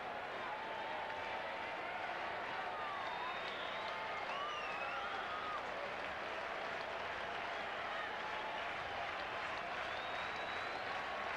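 Large baseball crowd at a Giants home game against the Astros claps and cheers steadily in a dense, continuous roar of applause that fills the stadium, with faint whistles rising above the wash.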